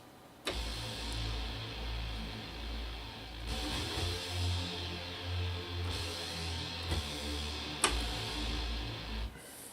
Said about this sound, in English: now for the bass line is going to sound something like this